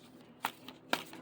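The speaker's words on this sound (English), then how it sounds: "so I'm going to shuffle behind camera" Two quick, soft riffles of tarot cards being shuffled, close and quiet, with near silence between them.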